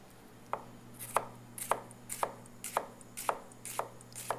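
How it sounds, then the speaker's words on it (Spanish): Onion being chopped finely with a knife on a board for ceviche, a steady series of about eight crisp knife taps at an even rhythm, close and clear with a low hum beneath and no voices. "A esto le vamos a poner un poquito de picadura de cebolla también."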